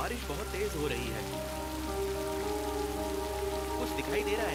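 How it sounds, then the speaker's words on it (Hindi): Heavy rain pours steadily onto surfaces outdoors, a dense continuous patter throughout, with faint voices in the background. "बारिश बहुत तेज हो रही है।"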